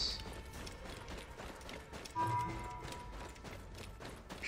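A horse's hooves clip-clop along in the video game Assassin's Creed Origins, a quiet, steady rhythmic trot in the background with faint game ambience and no clear talk.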